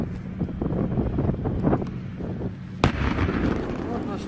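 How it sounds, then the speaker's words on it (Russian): A tank fires its gun in combat around Debaltseve, Ukraine: one sharp, heavy boom cuts through constant wind buffeting on the microphone while people talk. "Вот наш танк стреляет."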